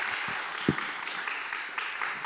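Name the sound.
audience applause welcoming a lecturer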